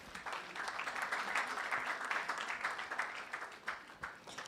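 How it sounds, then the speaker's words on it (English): An audience applauds at the NSMQ 2023 national championship launch event, a dense, moderately faint wash of clapping that holds evenly for several seconds. "Please give him a round of applause."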